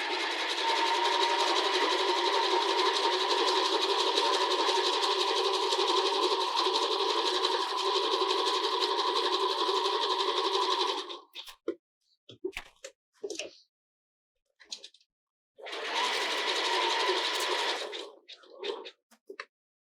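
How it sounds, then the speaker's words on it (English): A sewing machine runs a close zigzag stitch along the edge of a sports bra, a long continuous whirring burst, then clicks and handling, then a shorter second run, all near and loud. "I'm just going to stitch really close to the edge like this"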